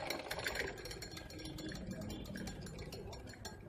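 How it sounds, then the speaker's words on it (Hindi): Sewing machine running steadily through long straight stitching along a sleeve seam, a continuous close mechanical whir with a fast rattling rhythm and no talk. "हम इसकी लंबी लंबी स्टिचिंग करेंगे, सीधी आधा इंच की स्पेस से"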